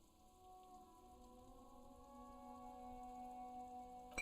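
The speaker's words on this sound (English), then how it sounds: "It's raining again." Steady rain falling in the video game Disco Elysium, a soft continuous patter under sustained tonal ambience, with a brief louder sound at the very end.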